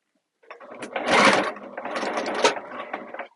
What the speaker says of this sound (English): Do a quick basting stitch here along the bottom edges.